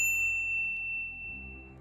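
A notification bell dings once, a bright clear tone at the start that rings on and fades over a low sustained background hum, with no voices.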